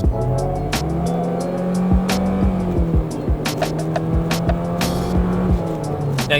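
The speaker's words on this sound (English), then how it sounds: "Now you hear some gear changes in there." A 2022/2023 Hyundai Venue with a CVT accelerating from inside the cabin, its engine drone climbing steadily, then dropping in stepped, simulated gear changes several times, over constant road and tire noise.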